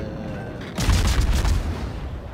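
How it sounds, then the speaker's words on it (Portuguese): Heavy naval gun salvos in World of Warships, involving a mini cruiser and the battleship Yamato, hitting as a loud low boom at about 0.8 seconds and rolling on in a dense rumble over the rest of the clip. "Já começa a atirar em mim"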